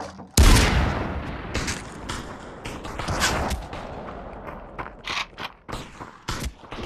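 Gunfire in the VR shooter Population One: a loud close burst opens the stretch, followed by scattered shots and mechanical clatter at varying distances, with rapid bursts toward the end.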